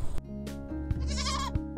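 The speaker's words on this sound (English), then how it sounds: "we decided we would have some goats" Goats kept at a vineyard winery let out a clear, wavering bleat partway through, with short thumps and knocks before and after over a low steady hum.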